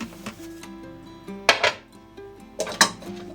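A whisk scrapes and clinks against a bowl while condensed milk and sugar are beaten into a cheesecake cream, sharp metallic strokes in two short bursts over soft background music.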